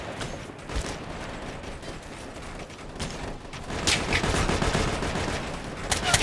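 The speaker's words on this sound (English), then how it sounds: "We're taking heavy fire." Gunfire in the video game Operation Flashpoint: Red River, bursts of automatic fire and scattered shots crackling at varied distances, growing denser and louder toward the end.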